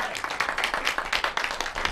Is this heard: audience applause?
yes